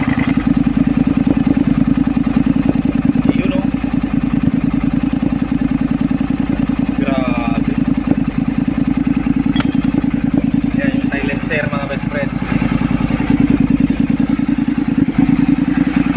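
A Honda X-ADV scooter with an aftermarket muffler idles loudly and steadily with a deep throbbing rumble, while a voice speaks briefly over it.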